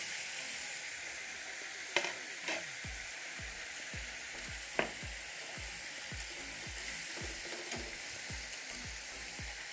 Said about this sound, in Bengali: এইগুলো দিয়ে একটু নাড়াচাড়া করে নেব।